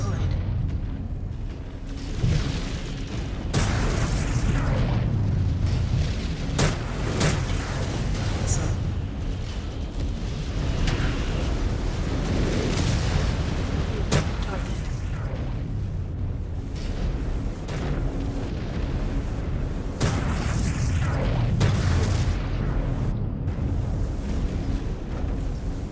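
Heavy booming blasts and rumbling impacts from MechWarrior 5 Clans mech combat in a co-op annihilation mission, dense and continuous, with several louder bursts over a constant low roar.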